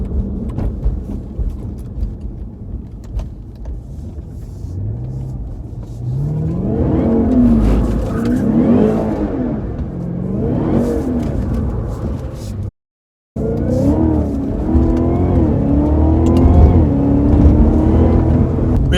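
A Cadillac CTS-V3 engine revs hard during donuts, loud rising and falling engine roars in repeated waves close by, with a momentary cutout before the revving resumes.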